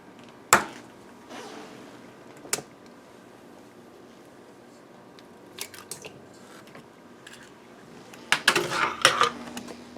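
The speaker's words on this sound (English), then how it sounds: "I'm mixing all the ingredients together, nice and easy." A spoon mixes almond butter, brown sugar and an egg for gluten-free chocolate chip cookie dough in a bowl, making scattered clinks and scrapes: a sharp knock early, soft stirring, then a busier cluster of clatter near the end.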